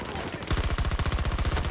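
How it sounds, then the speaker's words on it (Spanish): Rapid automatic gunfire from Battlefield 2042 erupts after a brief pause, a loud, steady stream of closely spaced shots that runs without a break to the end. "sé que fallé unos cuantos disparos, pero le di suficiente para matarlo"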